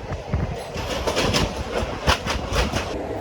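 Simhadri Express passenger train rolling along the rails, a steady rumble with rhythmic clickety-clack of wheels over joints, heard close from on board and continuous throughout.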